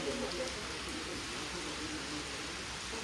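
Monsoon rain falls steadily outdoors as a faint, even hiss with no distinct drops, running unchanged from start to finish.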